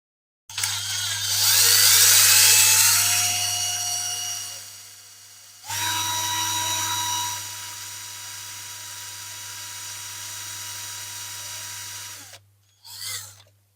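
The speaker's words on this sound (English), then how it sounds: "Got a small drill on there first." A small drill bores into the base of a Corgi Toys 701 diecast minibus, whining high and steady for several seconds, pausing briefly, then drilling again at a lower sustained pitch before a short final burst.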